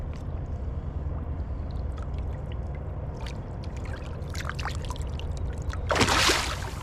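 A released flathead catfish splashes back into the Ohio River with one short, close burst near the end, following a steady low rumble of boat and river noise.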